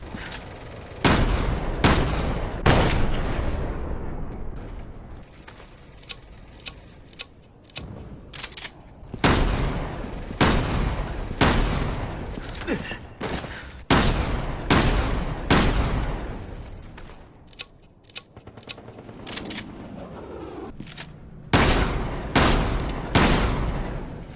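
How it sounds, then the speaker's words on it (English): Assault shotgun firing in Resident Evil 6, with loud blasts in rapid bursts and single shots that boom and decay across the whole stretch. "Alright, let's test the assault shotgun"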